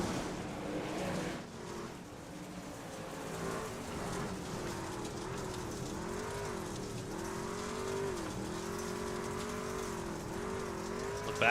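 Race trucks in a XXII Designs series roar around the Eldora dirt track, engines droning and rising and falling in pitch as a pack passes, loud and continuous.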